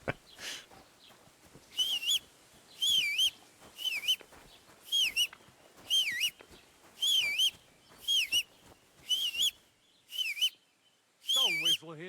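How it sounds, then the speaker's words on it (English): A video game character whistles a repeated warbling tune, about ten short bright phrases in an even rhythm with brief gaps between them, loud and close over a quiet background. "Stop that whistling."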